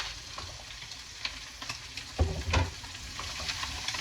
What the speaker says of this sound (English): The bacon's getting crispy, and we're ready to start with the garlic and shallots